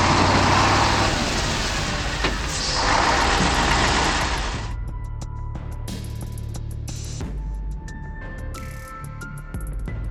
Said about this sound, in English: The Kamaz truck is spinning its wheels, with water splashing up all around